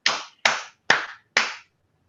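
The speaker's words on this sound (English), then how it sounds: "we should give some Zoom applause for the wonderful talk" Four distinct hand claps ring out in an even rhythm, crisp and close, ending an online seminar talk; no voices accompany them.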